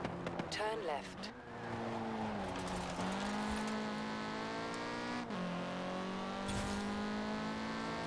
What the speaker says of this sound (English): You can hear the rotary behind me. The thing's loud.